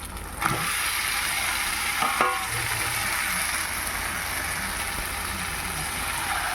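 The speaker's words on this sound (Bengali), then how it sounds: "মশলা অল্প কষেছি এবার দিয়ে দিচ্ছি চিকেন" Chicken pieces go into spiced masala already frying with turmeric for a chicken curry, and a loud, steady broadband sizzle starts at once and carries on with a few stirring knocks. No one speaks.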